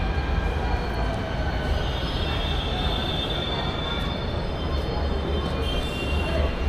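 Metro train at a Jaipur metro station after dark, a steady rolling rumble with faint wheel squeal, fairly close and continuous, with no talk.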